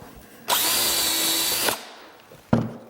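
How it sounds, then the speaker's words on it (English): Power drill whines steadily for about a second as it bores adjustable shelf pin holes into wood for a step-back cabinet, then stops; a short sharp knock follows a moment later. "when you're drilling adjustable shelf pin holes"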